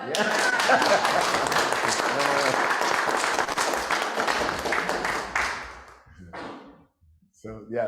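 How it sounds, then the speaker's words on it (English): An audience claps for the artists at a Sounds of Liberation III event hosted by a host with a co-host. Dense, loud applause runs for about six seconds, then thins out and fades into a quieter stretch with a few voices near the end. "can everybody like clap for the artist, please?"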